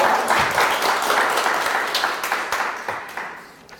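Applause greeting a professor at the start of a real estate exam lecture, dense clapping that holds steady and then fades toward the end.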